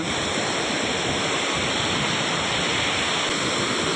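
Water spills over a village dam in a loud, unbroken rush of noise, heard close by and alone.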